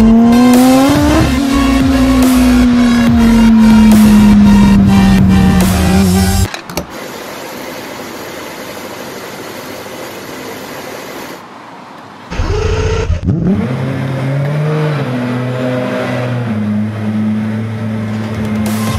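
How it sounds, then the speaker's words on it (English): An Aston Martin Vulcan racing car roars close by, its engine screaming loudly before the note sweeps down. After a quieter stretch of rumbling idle, it bursts back to life with a sharp rev and settles into a loud, steady drone. "It was finally time to get the car fired up"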